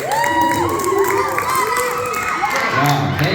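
A youth group crowd cheers and applauds in a lively mix of whoops, shouts and clapping, loud and close, with excited voices rising over it.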